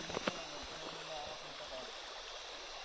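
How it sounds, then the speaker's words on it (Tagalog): Shallow river water flows steadily and quietly in the background, with a few brief knocks near the start and no talking. "dito kami sa may river. Medyo mababaw lang yung tubig."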